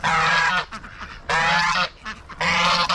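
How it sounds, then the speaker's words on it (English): Geese honk loudly in three long, overlapping bursts on a frosty morning, a noisy flock close by with brief pauses between calls. "I don't know what's got the geese extra vocal this morning"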